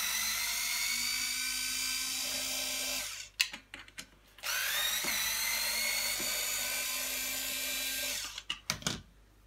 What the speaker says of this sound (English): And then you'll want to unscrew these.